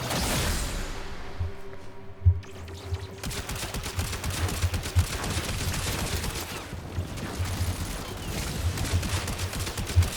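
Stug firing in the video game Warframe: a dense, continuous stream of rapid shots and bursts, loud and close, with occasional sharper impacts, running unbroken after a brief lull.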